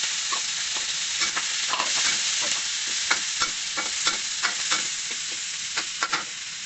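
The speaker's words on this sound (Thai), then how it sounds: "ให้พริกกระเทียม เหลืองสักหน่อยจ้ะ ก็ใส่ปลาหมึกลงไปเลย" Squid sizzles in a dry pan with chili and garlic, a loud, steady frying hiss broken by repeated scraping stir strokes close up, with no talking.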